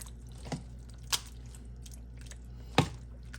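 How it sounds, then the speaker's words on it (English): Macaroni being stirred into a creamy cheese sauce, heard as three brief, soft, wet squelches spaced apart over a quiet, steady background hum, with no talking. "Just gonna stir that on up in there."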